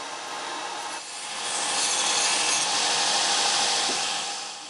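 Steel scale is ground off forge-welded Damascus steel with a continuous harsh, hissing grind that swells louder midway and stays close and steady.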